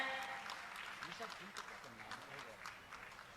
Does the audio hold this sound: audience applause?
yes